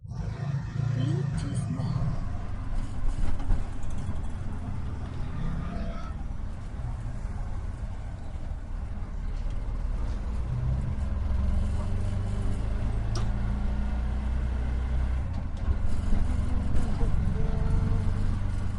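Bajaj auto rickshaw being driven, with a low, continuous engine rumble that swells and eases as it moves, and a voice talking over it.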